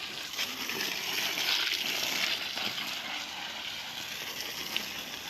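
Water gushes and splashes steadily over red peppers being washed for pepper paste, a continuous broadband rush at close range with no talk.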